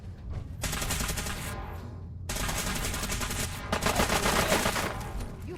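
Gunfire in the video game Fallout 4, rapid automatic bursts of shots in two long volleys separated by a brief gap, loud and dense.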